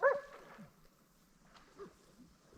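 At a remote wilderness catfishing spot, a dog gives a short yip, then a few faint whimpers and soft barks follow at a distance, quiet overall.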